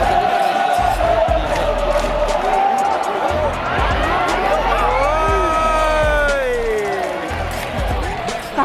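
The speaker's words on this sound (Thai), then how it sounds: "ได้ยินเสียงกองเชียร์แบบตีกองอะไรอย่างเงี้ยกันแบบน่ าจะมันมากเลยทีเดียว" Thai League football supporters at a big match between Muangthong United and Buriram United cheer and chant continuously in a dense roaring crowd, with a drum rhythm faintly implied beneath the steady wall of voices.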